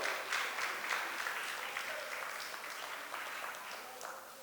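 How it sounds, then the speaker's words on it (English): Clapping at a family reunion gathering, a modest group applauding with a few distinct claps, starting fuller and gradually tapering off. "Give yourself a round of applause."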